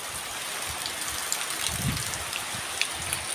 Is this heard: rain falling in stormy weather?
yes